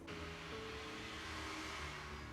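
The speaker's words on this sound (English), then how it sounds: "It's just a friggin' sports car." A sports car engine roars past at steady volume, a continuous mid-pitched rumble with broadband road noise, no voices.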